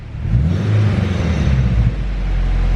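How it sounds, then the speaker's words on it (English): A turbocharged Honda S2000 runs steadily with a deep low rumble, while its wastegate dump tube rattles against the downpipe; the sound is continuous and fairly loud, with no talking. "my dump tube off the wastegate is actually rubbing on the exhaust"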